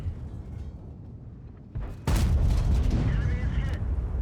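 Artillery fire in World of Tanks lands as a sudden heavy boom partway through, following a low rumbling battle bed and leaving a loud sustained roar with faint voice traces after.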